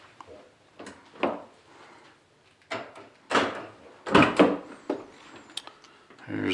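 A Ford Crown Victoria car door opens with a brief clunk and rustle, followed by scattered handling knocks, with a person talking close by.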